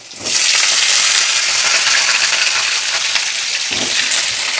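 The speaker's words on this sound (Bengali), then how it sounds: "আলুটা সত্যি ফোড়নে দিয়েছি লঙ্কা, পাঁচফোড়ন, লঙ্কা, জিরে, তেজপাতা" Potatoes fry in hot oil seasoned with chili, panch phoron, cumin and bay leaf, a loud, steady close-up sizzle that starts abruptly and holds throughout with faint stirring.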